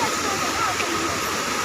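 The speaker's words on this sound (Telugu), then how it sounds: "వాటర్ చూడండి ఎలా వస్తున్నాయో ఆ హోళ్ళ నుంచి." Water gushing through holes in a dam's gate structure during rain, a loud, continuous, broadband roar with no pauses.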